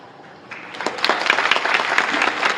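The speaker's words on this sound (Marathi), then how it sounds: "सांगायचं आहे अजून टाळ्या नका वाजू" An audience at a Marathi devotional kirtan breaks into applause, a dense clapping that swells after a brief pause and carries on loudly to the end.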